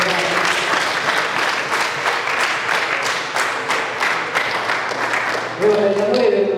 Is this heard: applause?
yes